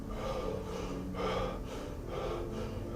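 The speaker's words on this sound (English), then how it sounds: "Breathe in and out slowly, using belly only, keeping the rib cage expanded the entire time." During a voice-lesson belly-breathing exercise, a person breathes in and out through the mouth in steady, audible, airy cycles, close and continuous, with no speech.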